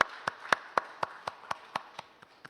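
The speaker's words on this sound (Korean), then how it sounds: "우리 다시 한번 박수로 같이 한번 우리 권사에 감사하겠습니다." Steady, evenly spaced claps ring out in a church during a New Year special dawn prayer service, about ten sharp hits at a brisk, regular rhythm, moderately faint and roomy with no talking over them.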